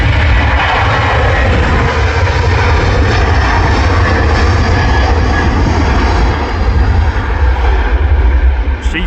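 A heavily loaded Turkish Airlines Airbus A330 taking off at Manchester Airport, with a loud, sustained jet-engine roar that stays strong and steady through the whole clip.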